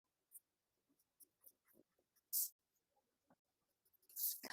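Soft pencil strokes on paper as pattern lines for a tailored jacket's facing and lining are traced, with brief scratchy bursts and light taps between quiet pauses, close and faint, with no talk.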